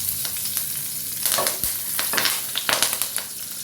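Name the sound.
curry leaves frying in hot oil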